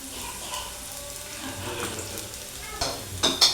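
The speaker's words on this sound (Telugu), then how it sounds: "ముందుగా ఉల్లిపాయలు వేసుకుంటున్నాను ఉల్లిపాయలు వేగుతున్నాయి కదా" Onions fry in a pan for a meal-maker curry, with a soft steady sizzle and a few louder crackles and stirring scrapes near the end.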